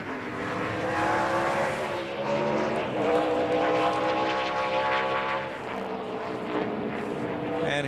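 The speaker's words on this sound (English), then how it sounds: "And here's the yellow freight Dodge for Casey Mears." A Dodge NASCAR race car on a 2004 Food City 250 qualifying lap, its engine droning loud and steady with rising and falling pitch as it circles the track, a broadcast voice faintly underneath.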